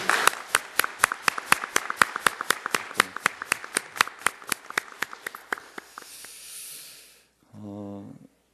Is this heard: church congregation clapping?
yes